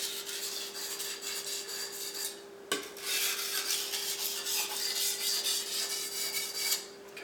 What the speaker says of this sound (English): I'll do a couple more passes here